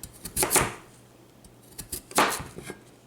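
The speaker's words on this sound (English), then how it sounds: "Seems like that's slicing a little easier." A knife slices through food ingredients for bison burgers and vegetables, giving two clusters of crisp cutting strokes against a board with quiet pauses between them.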